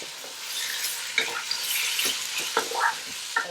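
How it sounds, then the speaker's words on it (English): Meat browning in a pot for Persian ghormeh sabzi, sizzling and frying steadily while a utensil stirs it with several scraping clicks, close and alone. "And give it a stir."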